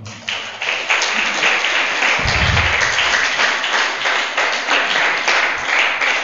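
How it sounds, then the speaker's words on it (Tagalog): A church congregation applauds, dense sustained clapping from many hands close by, with a brief low thump partway through. "Palakpak sa Panginoon."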